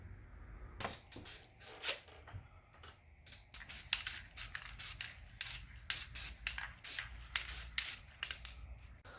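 Repeated short bursts of spray paint coating a 1:10 scale RC Jeep Wrangler crawler body, two or three coats applied in quick, irregular hisses with brief pauses, close up and with no talking.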